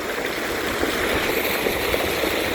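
Floodwater rushing through farm fields after a heavy downpour, a continuous broadband roar of flowing water, steady and fairly loud, with no voices.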